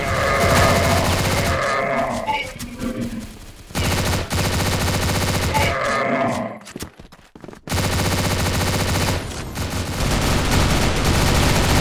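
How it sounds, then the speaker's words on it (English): A flash grenade goes off in the video game Crossfire amid loud bursts of game gunfire, then a sharp drop to near silence before the noisy combat sounds return. "Flash grenade."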